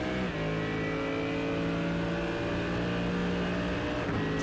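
Race car engines at Suzuka in iRacing, including a Mercedes AMG, droning loud and steady with sustained high revs and a brief gear shift near the start.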